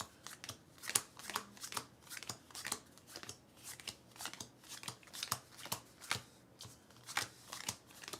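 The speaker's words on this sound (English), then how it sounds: "So we need to shuffle this deck." Someone shuffles a deck of unsleeved Cthulhu: Dark Providence game cards. Crisp riffles and snaps repeat in a steady rhythm about once a second, close to the microphone, with no voices.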